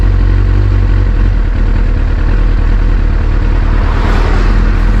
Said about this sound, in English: My bike sounds a little better.